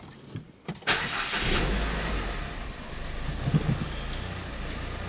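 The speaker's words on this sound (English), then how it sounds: "So I'm gonna start the car" A Ford Fiesta engine cranks with a few quick clicks, catches and roars to life, then settles into a steady idle close by.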